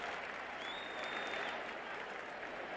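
A stadium crowd at the Meadowlands roars and applauds steadily during a Giants versus Cardinals football game, a dense, sustained wash of cheering and clapping with no break.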